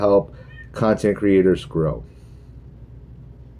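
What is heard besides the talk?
cat in heat meowing in the background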